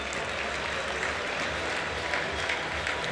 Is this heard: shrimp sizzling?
no